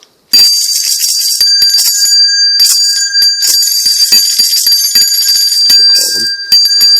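A small bell is rung continuously in a ritual calling spirits, a bright, loud, close jingling that keeps up for several seconds after a sudden start, with no talking.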